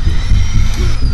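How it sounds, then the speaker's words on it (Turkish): A vacuum cleaner in the Hello Neighbor video game sucks with a steady, loud motor drone and whine that holds without a break for about a second. "Hop, elektrikli süpürgeyle çekmeye çalıştı. Duydunuz mu?"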